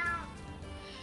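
A single short cat meow used as a sound effect in a French audiobook telling of the Town Musicians of Bremen, heard alone and fairly clear, fading within a second.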